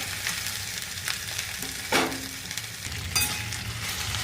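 Okra cooks in a pan for masala bhendi bhaji, crackling with a constant close sizzle while a utensil scrapes and clinks through it in a few distinct stirring strokes, with no talking.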